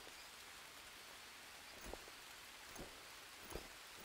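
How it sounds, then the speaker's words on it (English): Rain falls in the jungle survival game Green Hell, a quiet, steady hiss of rainfall with a few faint low thumps and patters breaking through near the end. "I get back and it starts raining"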